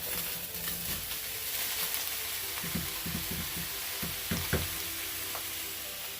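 Drained meat tumbling back into a hot pot on the stove and sizzling steadily, with a few scraping stirs and soft taps, close by and with no talking.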